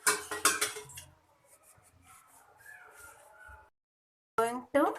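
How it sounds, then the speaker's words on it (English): A pressure cooker lid holding freshly cooked rice is opened with a sharp metallic clatter and clank up close. Quieter faint rattles follow, then a brief voice near the end. "Now I am going to open the cooker lid."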